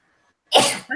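A single loud, sharp sneeze bursts out after near silence, followed by a brief softer exhale.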